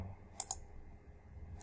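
Computer mouse clicks come in quick succession, two close together and then a third a moment later, faint and crisp against quiet room tone with no talk.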